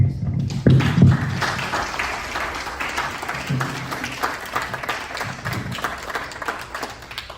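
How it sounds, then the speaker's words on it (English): Audience applause at an anniversary celebration for a farm foundation in Denville, a room full of people clapping steadily and loudly for several seconds, with a few louder claps near the start and the ovation gradually thinning out. "a round of applause for yourself."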